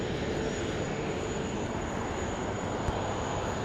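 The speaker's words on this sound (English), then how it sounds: "you can hear the planes" Airplanes at Sydney Airport, a steady broad roar of jet engines at moderate distance, continuous and unbroken with no talk.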